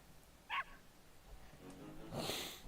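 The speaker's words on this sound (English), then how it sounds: "He turned into a dog." In the Legend of Dragoon video game, a conjured dog gives one short, faint yip, then a breathy snorting huff near the end. No voices are heard.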